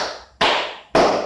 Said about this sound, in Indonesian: tepuk tiga kali